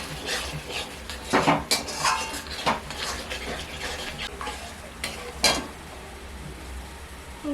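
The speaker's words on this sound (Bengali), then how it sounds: "এবারে একটু জল দিয়ে ভালোভাবে কষিয়ে নেব মশলাকে" Spice masala being stir-fried in a pan with a little water while cooking a potol and chicken dorma, with repeated scraping and clinking of a spoon against the pan over a soft sizzle.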